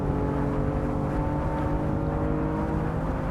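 BMW M4 engine driving on the Nürburgring, a loud steady droning engine note with continuous low rumble and road noise, sustained without break, heard close from inside the car.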